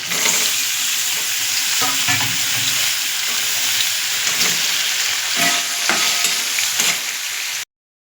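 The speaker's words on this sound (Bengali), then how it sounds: "এবার এটাকে আমি হালকা হাতে মাখিয়ে ভেজে নেব" Paneer coated with salt, sugar and pepper fries in a pan over a low flame, giving a steady close sizzle with occasional scrapes of stirring.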